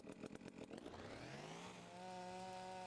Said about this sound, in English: Let's see if we could chop another tree down. All right, first time using the chainsaw.